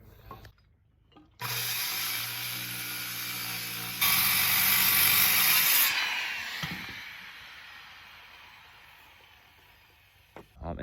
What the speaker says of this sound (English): I'm cutting 3 pieces of plywood and making a score mark on the 4th one